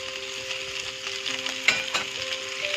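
A tomato and boiled drumstick pulp mixture stirred in a pan, soft scraping and gentle sizzle with a couple of sharper utensil knocks, close and steady under a faint tonal hum.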